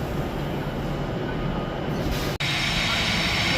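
Passenger train 9S54 from London Euston to Edinburgh runs past at Carlisle as a steady, loud broadband rumble and rush, broken by one brief dropout partway through.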